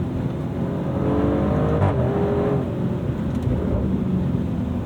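A 2025 Maserati Grecale Trofeo engine roars steadily at close range, the revs climbing and holding under load past boost threshold, with a brief surge partway through.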